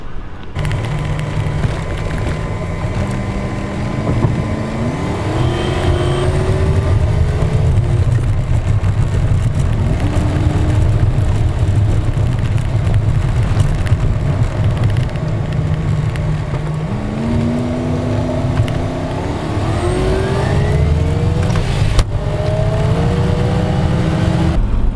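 A 1985 Chevrolet C20 Suburban drives along, its engine droning loud and close with rising gear shifts and revs throughout, no talk.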